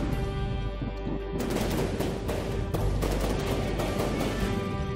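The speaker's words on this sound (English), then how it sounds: "So the railgun is shooting." Railgun fire during a naval battle in the game From the Depths, heard as a dense, continuous barrage of loud cracking shots and blasts layered over a constant mechanical hum, with no talking.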